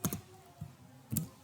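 A computer keyboard clatters in a few brief, close taps spaced apart, quiet and unaccompanied.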